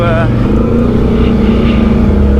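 An ATV on 30-inch mud tires riding a trail, its engine droning loud and close with a steady low rumble and shifting pitch, with a voice talking over it.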